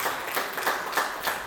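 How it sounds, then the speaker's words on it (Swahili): A crowd at a family community event claps together in a regular beat, producing rhythmic, moderately loud applause with no talking. "Jipigieni makofi sana."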